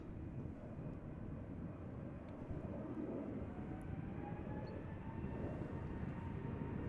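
A JetBlue Airbus A321neo at Amsterdam Schiphol Airport gives a steady, faint, distant engine roar with a broad rumble and a thin whine running through it.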